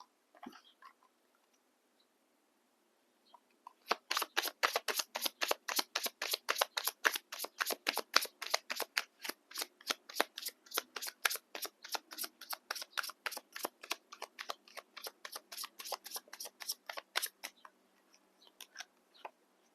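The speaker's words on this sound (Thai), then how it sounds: "ขออนุญาตหยิบไพ่อีกห้าใบนะคะ" Tarot cards being shuffled during a card reading, a long run of quick, crisp riffling flicks lasting about fifteen seconds, close and fairly quiet, with a few isolated taps before and after.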